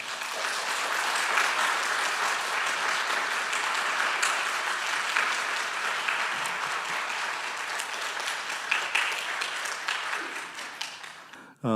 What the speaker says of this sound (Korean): 우리 목사님을 보내주신 하나님께 우리 영광의 박수로 맞겠습니다